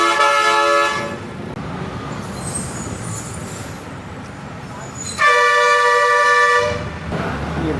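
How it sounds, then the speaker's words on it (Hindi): A loud bus horn blares in two long blasts separated by road and traffic noise, close by, on a street in Galle, Sri Lanka. "ये बस का हॉर्न बार बार बज रहा है"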